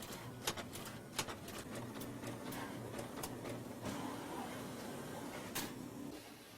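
Surface mount assembly machines running on a 1984 Macintosh factory floor, giving a steady mechanical hum with repeated sharp clicks and ticks at an irregular pace, fairly faint and with no voices.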